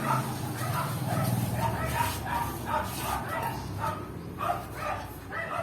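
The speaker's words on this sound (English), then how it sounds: "there's just a lot of dogs barking because there's a husky running around the street" Several dogs bark and yip repeatedly in a residential street as a husky runs loose, a busy chorus of overlapping barks with a person speaking over it.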